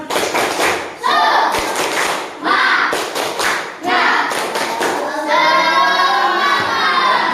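A class of students clapping in a rhythmic icebreaker pattern, loud sharp claps in quick bursts with short pauses, voices calling out along with the beat.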